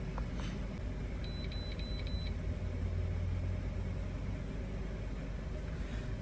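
Honda Element engine idling steadily with the car parked and running, a low continuous rumble joined by a brief series of electronic beeps early on as a code scanner is used.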